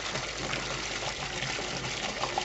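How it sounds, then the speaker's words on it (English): Water runs steadily from a tap rinsing a cup, a soft continuous splashing stream, fairly quiet and close. "Just use the water to rinse my cup"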